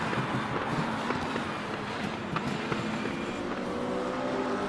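Racing cars battling and overtaking at Bathurst in a video game, a continuous engine roar with cars passing, moderately loud and steady throughout.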